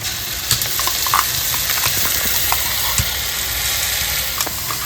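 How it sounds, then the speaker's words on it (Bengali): Chopped onions fry in oil for a mutton curry, a loud, steady, dense sizzle with occasional small pops and stirring knocks, close up and without speech. "পেঁয়াজটা হালকা হালকা ভাজা হয়ে গেছে"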